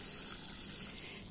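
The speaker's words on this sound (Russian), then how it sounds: "Так, все, кабачки надо полить." Water pouring onto freshly planted zucchini in a garden plot, a steady broadband gush with no break, close and fairly loud, heard alone without voices.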